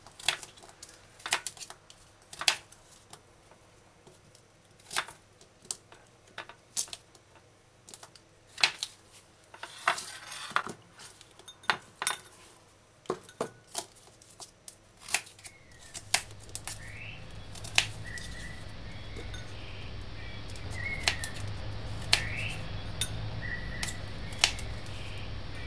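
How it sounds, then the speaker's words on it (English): A knife finely chopping pumpkin for a shrimp pumpkin curry stew, with quick, irregular sharp taps on a cutting board, close and crisp, continuing over a steady background hum that grows louder partway through. "I'm going to cut the pumpkin fine."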